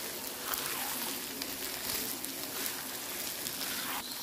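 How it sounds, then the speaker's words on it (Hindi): Boiled white chickpeas fry in spicy masala for biryani, giving a steady close hiss and crackle of hot oil with no voices over it. "इसमें मैं अब सफ़ेद चने ऐड कर दूँगी जो मैंने बॉयल करके रखे हुए थे। अच्छी तरह से हम इसको मिक्स करके भून लेंगे।"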